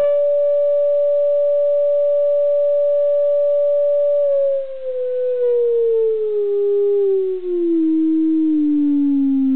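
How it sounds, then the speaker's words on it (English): A sine sweep from a signal generator and power amp through a custom vintage 18-inch speaker with a Western Electric style magnet: a loud pure tone holds steady, then glides gradually downward in pitch, alone without talk. "And this is a sweep test."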